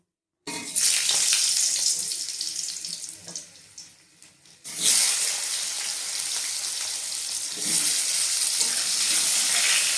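Potatoes drop into hot oil over a cumin tempering, setting off a loud, broad sizzle that rises sharply partway through and then holds steady and close, with no voices.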